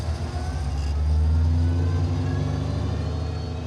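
A muscle truck's engine rumbles low and steady while driving, heard from inside the cab as a continuous deep drone that swells slightly midway.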